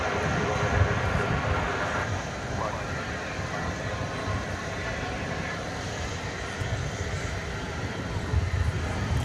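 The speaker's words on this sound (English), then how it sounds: "There goes Flight 192 off into the ether." Flight 192, an airplane departing DFW airport, roars as a broad, steady jet rumble that swells slightly near the end, with someone talking over it.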